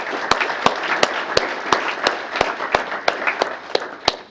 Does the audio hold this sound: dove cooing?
no